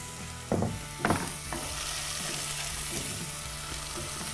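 Red peppers hitting a pan on high heat, two sharp hissing bursts as they go in, then a steady close sizzle that holds for the rest of the moment.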